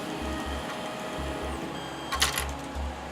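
A Tronxy P802m 3D printer moving its head to leveling positions, giving a soft whirring stepper-motor drone with rhythmic low pulses and a brief clatter near the end.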